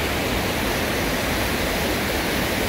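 Mountain valley stream rushing over rocks in Mulhan Valley, Yeongdong, Chungbuk, a loud continuous wash of flowing water filling the whole clip with no voices.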